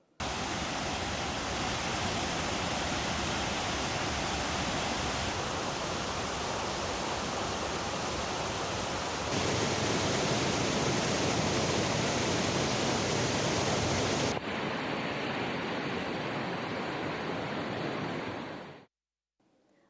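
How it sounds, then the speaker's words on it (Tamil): Floodwater roaring over waterfalls at Kumbakkarai and Suruli in Theni after heavy overnight rain, a dense, steady rushing roar that continues loudly throughout and cuts off abruptly near the end. "கனமழையால் தேனியில் உள்ள கும்பக்கரை சுருளி உள்ளிட்ட அருவிகளில் வெள்ளப்பெருக்கு ஏற்பட்டுள்ளது"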